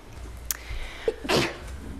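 A single sharp sneeze, close and loud, with a brief intake of breath just before it against a quiet background hum.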